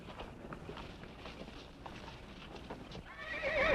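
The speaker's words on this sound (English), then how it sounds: "Quiet those horses." Horses from a 1958 western TV drama, neighing and whinnying over clip-clopping hooves in a tense outdoor standoff, with a loud high whinny rising at the end above steady movement.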